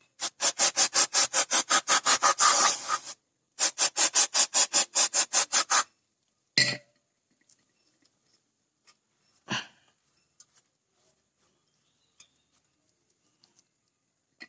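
Rust being scrubbed from the dust boot of a Toyota Roomy brake caliper: two runs of quick, even back-and-forth rubbing strokes close by, followed by near silence broken by a few small clicks and taps.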